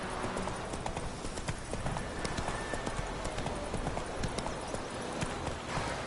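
Horse hooves clip-clop steadily and closely on the ground in The Witcher 3, a dense continuous gallop rhythm filling the whole stretch with no voices.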